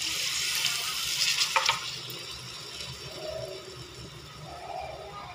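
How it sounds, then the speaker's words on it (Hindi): Water is added to a sizzling rice dish in a pot with oil, giving a hissing, bubbling frying sound that peaks early and then settles into a softer simmer. "अब वक्त है इसमें पानी ऐड करने का।"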